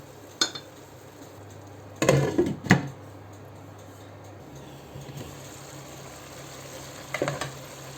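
Tomatoes and onions fry in a pan, a low steady sizzle broken by a few sharp stirring scrapes and clatters of a utensil against the pan, with no talk.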